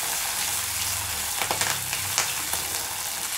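Onion, curry leaves and garlic sauté in hot oil for a shallot and tomato curry, giving a steady close sizzle with a few scraping stirs in the middle and no talk.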